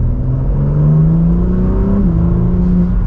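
BMW M4 CSL engine revving in its softer non-M drive mode, a steady loud droning growl with pitch rising slowly then dipping near the end, no talk over it.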